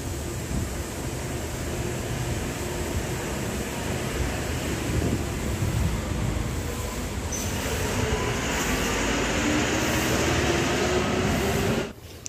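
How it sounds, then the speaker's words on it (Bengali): The Darjeeling toy train, a World Heritage mountain railway, rumbles steadily and close by with faint wheel squeal for about twelve seconds before the sound cuts off abruptly. "এইটা দার্জিলিংয়ের টয় ট্রেন আছে"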